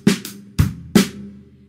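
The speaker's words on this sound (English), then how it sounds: "3rd verse is actually only 5 measures long, and it has a new groove in it, which sounds like this." A short drum groove from the third verse of a song played alone, with three sharp kick-and-snare style hits backed by a steady hi-hat wash, close and fairly loud.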